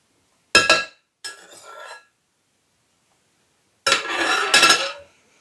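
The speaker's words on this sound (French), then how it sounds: "il va falloir intégrer les blancs en neige délicatement à cette préparation" A spatula scraping and clinking against a bowl while beaten egg whites are folded into chocolate and cream cheese batter, in three short separate bursts with silence between.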